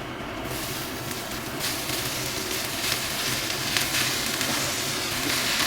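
Punarnava greens hit hot oil with browned onion and garlic in a pan, setting off a loud, continuous sizzle and crackle that holds steady and grows slightly stronger throughout, with no talking.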